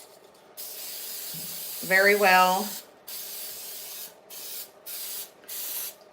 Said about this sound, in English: I'm gonna spray my old as hell bundt pan